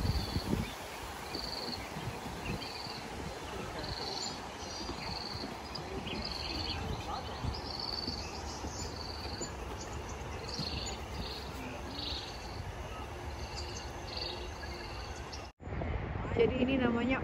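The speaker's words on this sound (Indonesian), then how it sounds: "Dan suara-suara kodok." A steady chorus of frogs croaking and chirping in high, repeated bursts at an Australian safari zoo, over a continuous buzz of insects and a faint voice.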